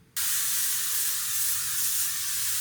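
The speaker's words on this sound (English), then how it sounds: "I'm just gonna use a little bit of hairspray." Ritken quick-dry hairspray gives one close, continuous aerosol hiss that starts abruptly and runs steadily for over two seconds.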